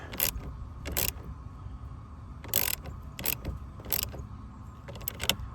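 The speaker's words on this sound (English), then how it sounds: "now we go on over here to the socket wrench. Feel it start to snug." A socket wrench clicks in several quick ratcheting bursts while tightening a bolt on a 2019 Ram 1500. The bursts are separated by short pauses and sound close and crisp.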